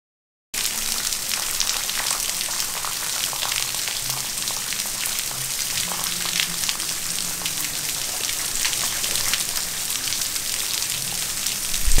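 Heavy rain pours outside a Florida villa, a dense, constant hiss of drops hammering surfaces that starts abruptly after a brief silence and stays loud and even to the end.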